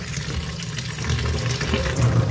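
Tap water runs in a steady, fairly loud stream over an egg being washed, a continuous splashing rush with no pauses and no voices.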